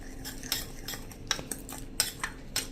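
A spoon clinks against a bowl while stirring sugar and red chili powder, a handful of light metallic taps and scrapes at an irregular pace, close and fairly quiet, with no talk.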